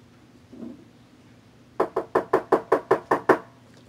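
Nine sharp, evenly spaced knocks rap on a door, loud and close, following a brief muffled bump in an otherwise quiet room.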